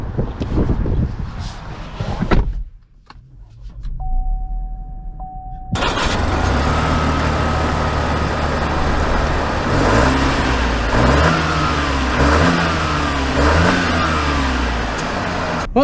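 A 2022 Chevy Trailblazer RS engine pulls away and accelerates, a loud steady mid-pitched drone rising through the gears after a short quiet pause, with wind noise over it.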